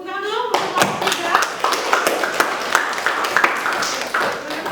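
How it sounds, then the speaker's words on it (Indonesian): An audience applauds for a student group after their classroom performance, brisk overlapping hand claps rising abruptly and continuing steadily at close range for several seconds, with faint talk beneath. "Tepuk tangan dulu untuk kelompok 3."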